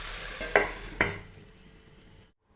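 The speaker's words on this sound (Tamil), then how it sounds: "அடுப்பை சிம்மில் வச்சுட்டு நம்ம நல்லா வதங்கட்டும்" Dried fish gravy (karuvaadu thokku) sautés in a pan over a low flame, giving a soft, steady sizzle with two brief stirring scrapes near the start. The sound fades out quietly at the end with no talking.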